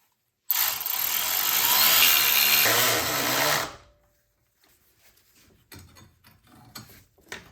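Power tool tightening hose fittings on a 2011 BMW 328i with an N52 engine, a loud continuous whirring buzz for about three seconds that cuts off, followed by faint clicks and handling noises.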